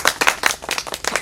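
Audience clapping in quick, loud, close rhythmic bursts at a live nach party stage show, about a dozen sharp claps with no talking.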